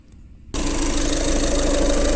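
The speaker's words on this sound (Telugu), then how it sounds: "ఒకసారి ఇంజన్ సౌండ్ కూడా చూపిస్తారు" A 2015 Volkswagen Polo Highline, a used car for sale in Hyderabad, rumbles into a steady, loud idle after a brief quiet moment, holding an even drone close by with no voices.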